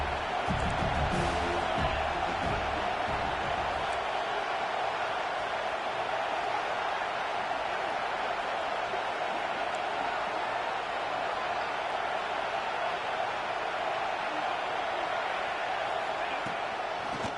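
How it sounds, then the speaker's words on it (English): A home crowd at a UCLA college football game produces a broad, steady roar that holds throughout, loud and sustained, with some scattered voices near the start. "Man, this crowd really affecting the football game."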